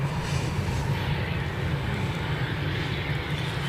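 A British Airways A321neo airliner inches along the taxiway at Edinburgh airport toward the runway, giving off a steady, low engine rumble with a broad hiss, continuous and moderately distant.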